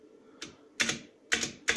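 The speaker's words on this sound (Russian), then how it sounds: "Также улавливает механическую клавиатуру." Keys clacking on a mechanical keyboard, picked up by a sensitive studio microphone, come in a few short bursts of rapid strokes, fairly close and alone with no voices.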